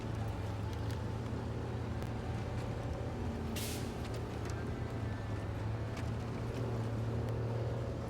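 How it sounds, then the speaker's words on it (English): Heavy truck engine in SnowRunner droning loud and steady throughout, a low rumbling hum with a brief hiss near the middle, with no break in the revving. "You can hear engine revving."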